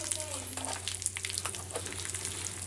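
Peanut chutney with Kashmiri red chili powder roasts in a pan, a soft continuous sizzle with light stirring scrapes, close but quiet, under a low background hum.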